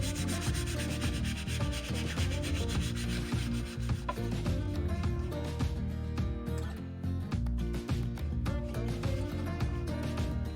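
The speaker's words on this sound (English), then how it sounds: "make sure you sand your piece just to get it nice and smooth." A wooden piece is sanded by hand in rapid back-and-forth strokes, producing close, loud, continuous scratchy rubbing with a rhythmic pulse and no talk.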